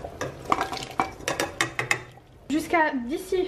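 Courgette pieces tumble into a cooking pot for a red couscous sauce, with a run of clattering knocks and stirring scrapes against the metal, followed by a person talking.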